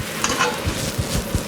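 Shallots cook in butter in a pan, a soft sizzle broken by a few light scrapes and stirring knocks over about a second and a half.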